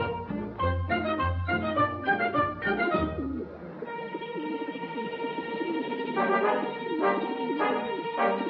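A pigeon coos in a city setting, soft repeated rolling calls followed by a steadier sustained bird sound in the background.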